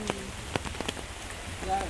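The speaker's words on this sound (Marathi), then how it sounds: "पाऊस पडता भरपूर आहे" Rain falling on a surface, with scattered louder drips and taps over a steady wet patter.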